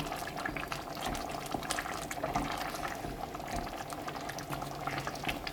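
A pot of dry fish kulambu, a tangy South Indian curry with salted anchovies, bubbles at a lively simmer, a close, continuous mix of small pops and gurgles with no voices.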